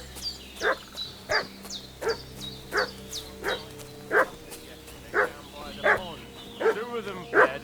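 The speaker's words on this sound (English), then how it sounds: "What's that dog making such a fuss about?" A dog in Kingdom Come: Deliverance II barks steadily, about a dozen sharp barks at an even pace, fairly close, over a low background hum.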